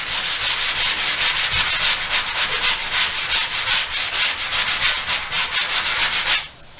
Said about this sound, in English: You sand that area down where you kind of feather it in